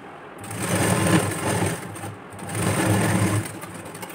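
A sewing machine runs in two steady bursts stitching a folded strip of blouse fabric, a close, even whir with a short pause between the runs and no talking.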